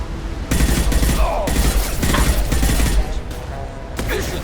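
Loud, rapid battle noise from the Mass Effect 2 video game: repeated heavy blasts and crackling bursts mixed with gunfire-like pops, continuing with little pause.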